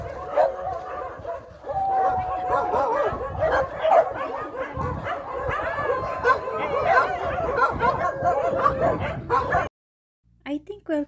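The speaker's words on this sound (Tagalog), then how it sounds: "Kasi yung tahol nila parang welcome na pagtatahol" Dogs at an animal shelter bark, yip and whimper in a busy, overlapping chorus close by, with people talking among the noise before a short silence near the end.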